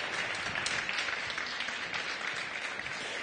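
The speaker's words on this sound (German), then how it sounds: "Herzlicher Applaus." Faint, distant applause from a conference audience, a soft even patter of many hands holding steady for a few seconds with no voice on top.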